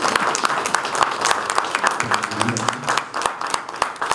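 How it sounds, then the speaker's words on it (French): An audience applauds at a business event held at the French National Assembly, a dense, loud round of many hands clapping throughout, with a voice briefly heard under it. "Vous pouvez applaudir s'il vous plaît, Clément Bialaka."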